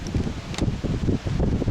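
Gusty wind on a farm during silage mowing buffets the microphone with low rumbling thumps, rising and falling in uneven bursts.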